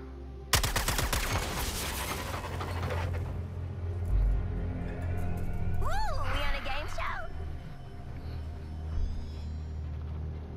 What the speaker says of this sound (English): We might be able to get up top if we shoot the junction box.